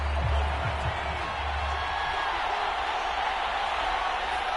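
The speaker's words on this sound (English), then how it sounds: "How about some applause for the defense there?" A stadium crowd in the Madden football video game keeps up a steady, fairly loud roar of applause and cheering that barely rises or falls, with a few low thuds near the start.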